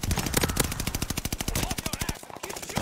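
Rapid automatic fire from a Cooper Carbine in a first-person shooter video game, a dense fast string of loud close shots with a brief pause near the end before firing resumes.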